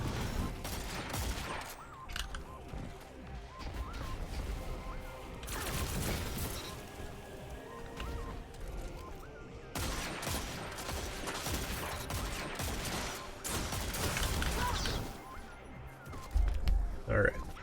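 Gunfire in a PvP shooter video game, with bursts of shots and blasts scattered through a busy stretch of game sound under near-constant talk.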